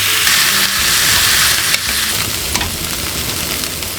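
Food frying in a pan while being stirred, a steady loud sizzle and hiss with scraping stir sounds throughout, no voices.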